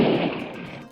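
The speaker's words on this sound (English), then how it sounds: "all of a sudden, shots were fired" A single sharp gunshot bursts out loudly and then decays quickly with a short echoing tail. It sounds like gunfire aimed at a red and white pickup truck, with no voices.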